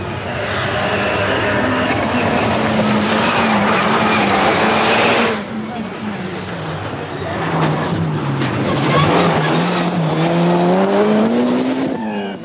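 A Peugeot rally car from the 1988 Circuit of Ireland Rally races flat out on a stage. The engine note rises and falls through gear changes as the car passes close and loud, dips briefly, then climbs again.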